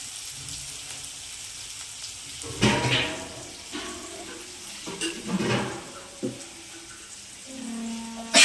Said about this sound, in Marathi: पाणी घालायचं त्याला.